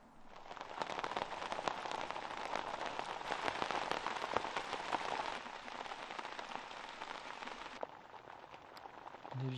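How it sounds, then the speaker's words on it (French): Steady, dense patter of rain drumming on tent fabric in a remote Savoie valley, continuous and fairly loud throughout with scattered sharper drop hits, no voices. "toujours agréable d'entendre la pluie"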